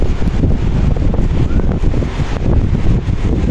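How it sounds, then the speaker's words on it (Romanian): Strong wind buffets a microphone on a seaside apartment balcony, a steady, loud roar with gusty low rumble throughout and no voices. "Acolo în față văd că este un vânt foarte puternic"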